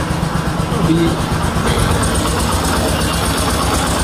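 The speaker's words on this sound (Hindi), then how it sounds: "पहले मैं आपको बाइक को चालू करके दिखाता हूँ। देखिए इस टाइम ये 1000 RPM से नीचे पर है।" A motorcycle engine idles low, below 1000 RPM, with a steady rumbling chug ahead of a carburettor adjustment; someone speaks briefly over the close, constant engine noise.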